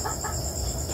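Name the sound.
frightened chickens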